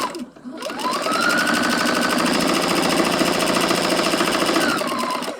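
A sewing machine chain-stitching a quilt block rattles rapidly and steadily up close, spinning up from a brief pause into an even, mechanical needle hammering that holds for several seconds before easing slightly.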